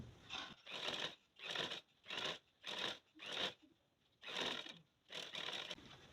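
A sewing machine stitching a dress neckline runs in steady half-second bursts separated by short pauses, a soft, even whirring hum recorded close and quiet.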